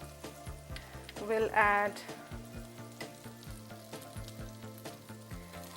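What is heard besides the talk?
butter sizzling in a pan on medium flame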